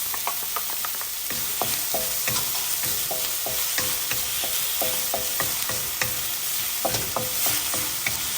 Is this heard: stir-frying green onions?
yes